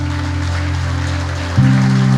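A church congregation claps during a worship service, a dense, steady patter of many hands under sustained instrumental tones that swell louder near the end.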